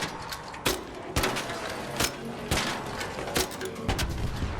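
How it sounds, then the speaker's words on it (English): An enemy bombardier firing in the ARC Raiders game, a series of heavy booming shots and thuds spaced about half a second to a second apart over a dense ambient backdrop. "It's going to start firing."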